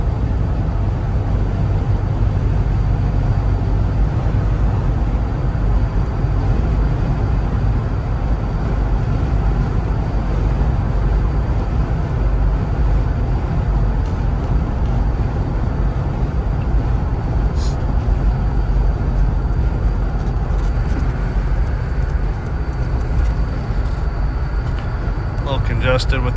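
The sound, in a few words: road traffic heard from inside a Jeep Wrangler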